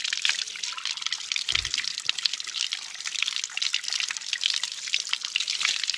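Lukewarm spring water pours from a village spout, splattering and dripping in a continuous close bright stream, with one brief low thump partway through.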